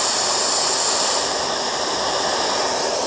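A mini jet engine turbofan driven by a BLDC motor on a 12-volt supply runs at full speed, giving a loud, constant high-pitched whine and rush of air with no pauses.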